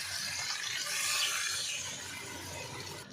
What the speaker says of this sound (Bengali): আমি এবারে একটু জল দিয়ে দেবো।